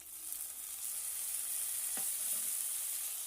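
Ginger, garlic and green chili paste sizzles in oil after browned onions, a steady hiss with one brief utensil scrape midway and no speech.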